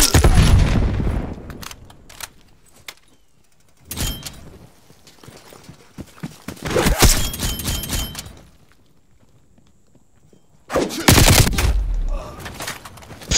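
Pistol fire and other weapon shots in Call of Duty Black Ops Cold War come in several loud clusters separated by quieter gaps, with sharp cracks, ricochet-like pings and crunchy impacts in each burst.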